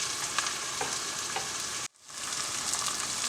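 Tomato sautéing in a pan for fish curry, a continuous close sizzle and hiss with faint stirring taps, cutting out briefly to near silence before the frying noise resumes.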